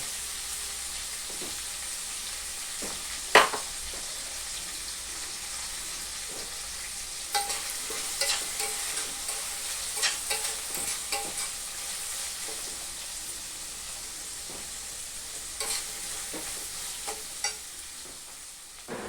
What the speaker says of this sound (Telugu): ఇప్పుడు పచ్చిమిరపకాయలు కలిసి వేగి అల్లం కరివేపాకు వేద్దాం కొంత నూనె కొంత నూనె వేయాలండి